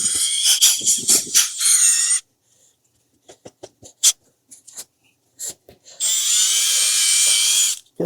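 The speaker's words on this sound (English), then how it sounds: "This is like the best tool I've ever bought, this auger." A handheld auger drill churns seed starting mix in two loud, sustained whirring bursts, with quieter scraping and handling knocks in between.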